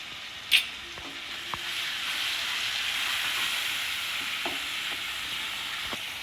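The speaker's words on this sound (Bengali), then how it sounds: "আমি মশলাটা এবার খুব ভালো করে কষাবো।" Spice paste with salt and turmeric powder being fried down in a pan, a steady soft sizzle and hiss running throughout, broken by a sharp clank near the start and a few light scrapes of stirring.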